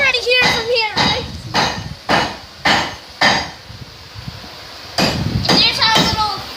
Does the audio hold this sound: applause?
no